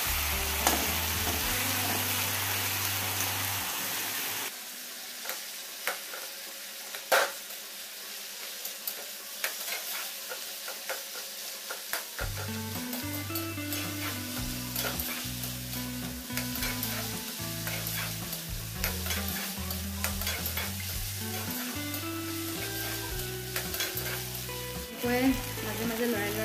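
Fish head and chengmora greens frying with crushed chillies, a steady hiss of sizzling oil broken by scraping stirs and a short lull, then rhythmic spatula strokes against the pan continue, with no speech.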